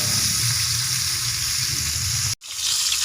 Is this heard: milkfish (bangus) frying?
yes